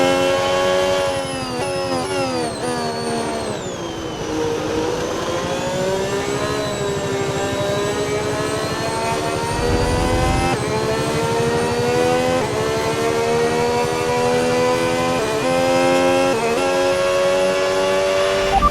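Formula 1 car engine in the F1 26 video game at Shanghai, a loud high-pitched whine that drops and climbs with gear changes, then settles into a steady, restrained drone under a virtual safety car.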